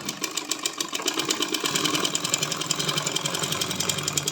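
A sewing machine stitches a side seam in a quick, even mechanical rhythm, close and continuous throughout with no voices.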